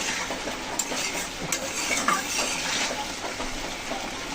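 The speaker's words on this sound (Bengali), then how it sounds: "নেড়ে চেড়ে নিলাম" A spoon stirs pangas fish and potato bhuna curry in a hot pan, giving a continuous sizzle with soft scraping and occasional light clinks against the metal, close and steady throughout.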